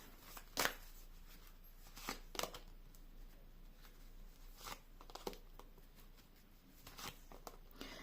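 Tarot cards being shuffled in a few quick, crisp riffling bursts, with quiet pauses between them in an otherwise still room.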